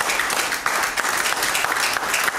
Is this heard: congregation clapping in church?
yes